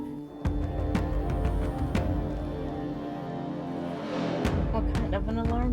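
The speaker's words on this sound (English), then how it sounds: "It's at this point that you guys hear the sound of an alarm." A loud, sustained alarm horn blares as a sound effect in a tabletop role-play session, steady and droning with shifting tonal layers and a brief rise in intensity toward the end.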